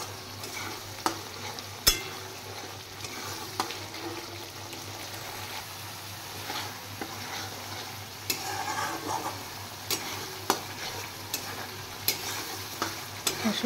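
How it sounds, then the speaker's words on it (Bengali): Spice masala fries with yogurt in a pan, giving a steady sizzle throughout, punctuated by sharp clinks and scrapes of stirring at irregular intervals. "এবার দই সহ আর একটু আমি ফ্রাই করব।"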